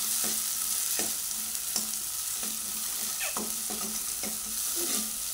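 A ground paste of ginger, garlic, coriander and coconut fries in oil on low heat, a constant close sizzle broken by regular spoon taps and stirring scrapes about once a second.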